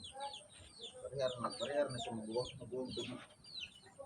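Chickens cluck and chatter nearby in quick overlapping calls while a person talks over them.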